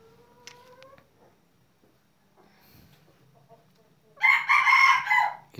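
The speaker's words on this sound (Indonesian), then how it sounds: "kokok terus dia, sangat gacor kokoknya" A rooster of a pikat-type chicken crows once, loud and close, after a few seconds of faint clucks and quiet bird chirps.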